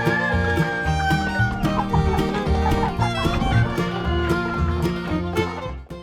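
Several chickens cluck continuously in a farm flock, with rhythmic overlapping calls close by and a steady beat of other sounds underneath.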